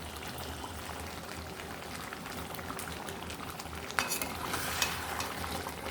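Crab curry stirred in a pan with garam masala just added, a steady low bubbling and light scraping throughout, with a couple of sharper utensil clinks toward the end.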